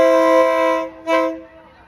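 A train horn blares loud and close at a folding railway market in Thailand, one long sustained honk followed by a brief second blast, with no talk over it.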